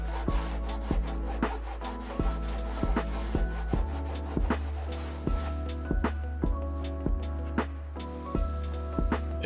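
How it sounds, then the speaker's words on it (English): Sandpaper of 220 grit works along the cut edge of a plastic 55-gallon drum lid in quick, regular rubbing strokes with rhythmic scraping peaks, close by and alone. "Just take some 220 grit sandpaper and go along the edge and it'll effortlessly remove it."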